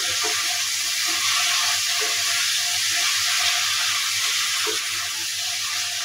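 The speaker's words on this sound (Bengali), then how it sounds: "বেগুনগুলো দিয়ে আমি ভালোভাবে নেড়ে দিচ্ছি।" Washed eggplants fry in hot spiced oil with a loud, dense, continuous hiss and crackle, with a few soft stirring scrapes mixed in, close up and steady throughout.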